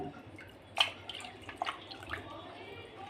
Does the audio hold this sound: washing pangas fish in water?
yes